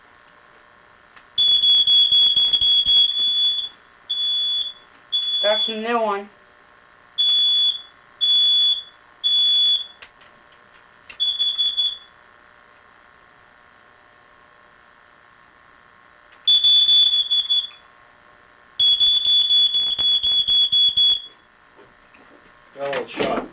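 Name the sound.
smoke alarm beeping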